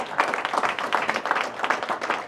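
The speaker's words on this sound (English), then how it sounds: "give Courtney a big round of applause." Brief applause from an audience at a mayoral funding announcement event, a short burst of scattered clapping at moderate level.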